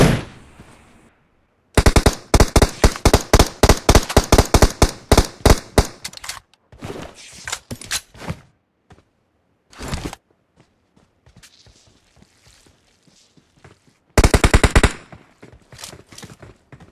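Automatic gunfire from the mobile battle royale game BGMI rattles in loud, rapid bursts, with quieter single shots and footstep-like clicks in the pauses between volleys.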